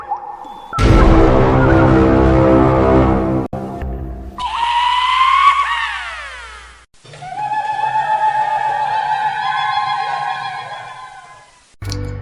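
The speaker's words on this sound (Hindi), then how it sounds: "जिससे बहुत तेज चिल्लाने की आवाज आता है" Loud, harsh screams in a Hindi ghost story about a witch in a haunted mansion, several long piercing shrieks in sequence with brief gaps, followed by a wavering, layered wail.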